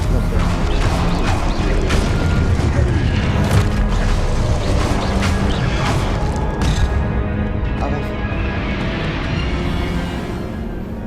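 Spell-casting blasts from wand combat in the video game Hogwarts Legacy, booming impacts and crashes layered over continuous rumbling battle noise, with a player talking over the action.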